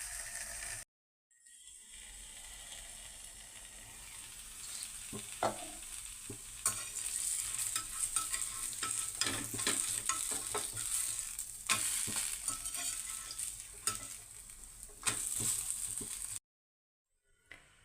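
Thalipeeth, a traditional multigrain flatbread, cooking in a covered pan: a steady close sizzle with scattered scrapes and clatter building through the middle, then a sudden cut to quiet, with no talking.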